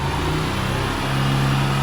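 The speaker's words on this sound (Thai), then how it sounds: "เดี๋ยวผมลองเร่งให้ดู" A 2021 Honda Wave 110i fuel-injected motorcycle engine runs steadily close by, its mid-pitched hum rising slightly as the throttle is opened in a short rev, with no talk over it.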